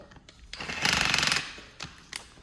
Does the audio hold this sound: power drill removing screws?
yes